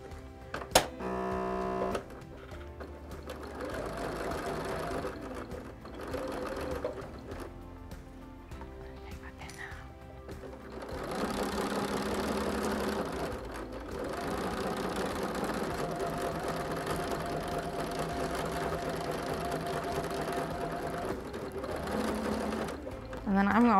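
An old Singer sewing machine stitching quilt fabric, its motor whirring and the needle clattering in a rapid rhythm through several bursts with short pauses, close and moderately loud.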